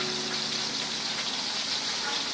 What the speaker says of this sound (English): So I'm basically just going to whisk this and break up the sour cream